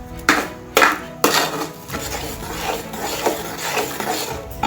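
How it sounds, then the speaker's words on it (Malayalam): Dissolved jaggery (karipetti) mixture being stirred in a pot, a few sharp scraping knocks at the start, then continuous close rubbing and scraping of a spoon against the pot. "ഇനി ഇത് നന്നായിട്ട് ഇളക്കി കൊടുക്കുക"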